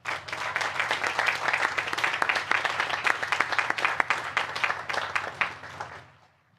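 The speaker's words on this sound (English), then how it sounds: "Let's take a moment and give them a big round of applause" Audience applause at a UMass Dartmouth 2025 graduation ceremony, a dense sustained wash of many hands clapping for the faculty that fades out at the end.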